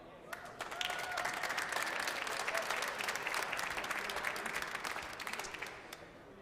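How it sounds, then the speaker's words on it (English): A crowd at a squash tournament semi-final claps steadily for several seconds, a moderate round of applause that swells and then tapers off slightly. "Hopefully a bigger round of applause for the next guy"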